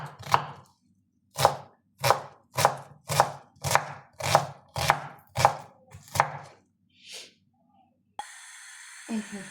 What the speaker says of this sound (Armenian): սոխն եմ կտրտում